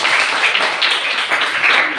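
Classroom applause for a student group during a lesson, a short burst of uneven clapping from a small crowd, fairly close and steady, with no talking over it.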